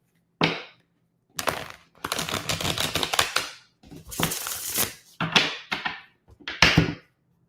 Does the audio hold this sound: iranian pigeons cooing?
no